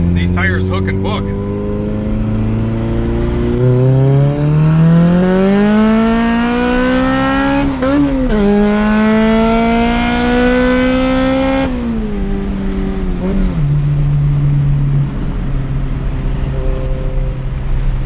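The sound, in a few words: turbocharged Honda Civic engine accelerating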